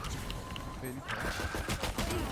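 A quick fusillade of gunfire from the shooter video game Valorant crackles in a tight burst of sharp shots in the second half, with a voice faintly over the game audio.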